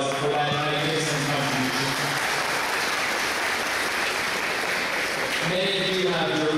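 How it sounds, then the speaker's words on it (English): Sustained applause from a large audience at an Islamic History Month gathering in Canada fills the room, a dense steady wash of many hands clapping throughout, with faint tonal background sounds underneath. "I would like you all to give yourselves a round of applause"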